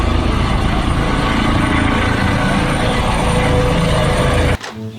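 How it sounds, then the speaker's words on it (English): A helicopter drones with a steady, loud rotor-and-engine roar that holds for several seconds and cuts off abruptly near the end. "A helicopter."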